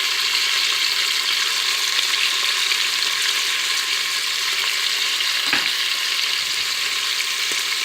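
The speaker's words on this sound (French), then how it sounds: "Une fois que vous avez mis votre bœuf à colorer, on va le saler et le poivrer." Beef browns in a hot pan with a bright, constant sizzle and frying crackle and one brief stir-like knock partway through, with no voices.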